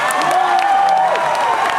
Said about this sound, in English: the crowd will just erupt